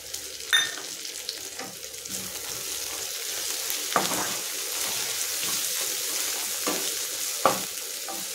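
Ginger garlic paste frying in a pan for mutton curry, a continuous bright sizzle broken by several sharp scrapes and clinks of a spoon stirring, close and clear.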